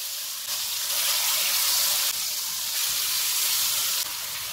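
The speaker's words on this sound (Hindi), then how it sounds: "ऑयल गर्म हो गया, इसमें मैरिनेटेड चिकन रखेंगे।" Marinated chicken pieces sizzle steadily in hot oil in a pan, a loud continuous hiss with a slight surge midway and no talking.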